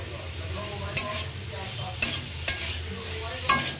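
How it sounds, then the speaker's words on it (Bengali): Spices sizzle over a medium flame in a hot pan while a utensil scrapes and stirs, sharp clacks landing every second or so against the steady frying hiss. "মশলাটাকে ভালো করে কষিয়ে নিয়ে"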